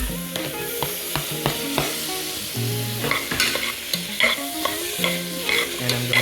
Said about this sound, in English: So here I'm adding the tomatoes.